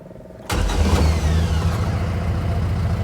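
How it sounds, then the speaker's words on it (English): A Bugeye Sprite's engine warm-starts after a brief quiet moment, catching abruptly and settling into a loud, steady, throbbing idle close by, no voices. "this is a warm start on this car"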